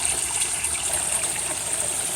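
Small 6-inch spinning fountain ball in a clear garden pond churning up white water, a steady close rushing and splashing wash that stays even throughout with no talking.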